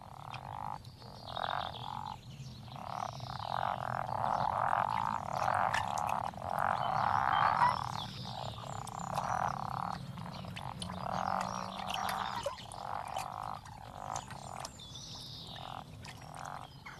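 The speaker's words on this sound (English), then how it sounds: "frogs are already spawning by the end of February." A dense chorus of frogs croaking steadily in rapid, overlapping pulses, fairly close, with a constant low rumble beneath and no voices.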